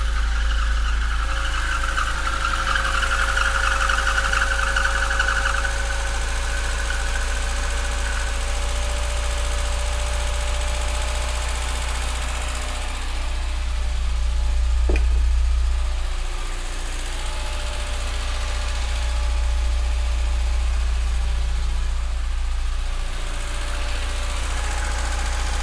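Low-mileage Austin Metro car, unstarted for years, idles noisily: a steady, close engine rumble and hum with a whining, rattly fan-belt squeal over the top, swelling briefly midway.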